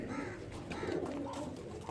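Kasuri pigeon cooing, a steady low murmuring coo that carries through the whole short stretch at moderate loudness with no other sounds over it.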